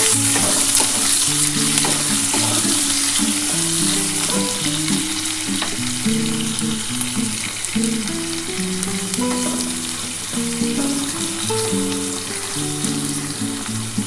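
Potatoes and onions fry in a pan for a spicy kachki fish chorchori, giving a loud, continuous sizzle with light stirring scrapes throughout and a low steady tonal hum underneath, no talking.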